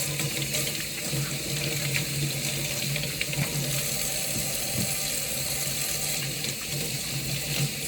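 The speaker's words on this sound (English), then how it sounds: "Sink washing hand noises." Water runs steadily from a sink tap while hands are washed, a continuous close hiss and splash with no talking.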